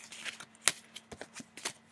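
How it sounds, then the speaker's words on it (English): A deck of Exploding Kittens cards is shuffled by hand, giving a run of quick riffling and flicking bursts with one sharp snap partway through, close and fairly quiet with no talking. "So I'm going to shuffle those."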